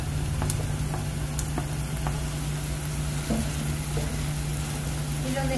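Garlic sizzling and frying steadily in a hot pan, a continuous close crackle with a low hum underneath and occasional small pops.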